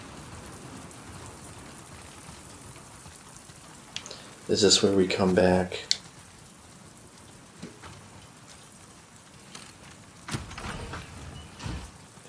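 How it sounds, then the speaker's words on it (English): Steady rain falling in The Last of Us Part II runs through the whole stretch as a constant hiss, with a brief louder burst partway through and a few sharp cracks later, while a voice speaks over it. "Let's get out of the rain."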